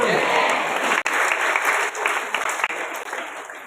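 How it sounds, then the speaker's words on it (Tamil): A large crowd gives loud, continuous applause at a ceremonial gathering, a thick wash of clapping that holds steady throughout, with voices blended in. "ஒரு நிமிடம் கரகோஷம் எழுப்பி"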